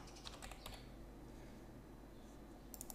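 Someone types a search term on a computer keyboard: quick bursts of light key clicks at the start and end with a quiet pause between, close and soft with no talking.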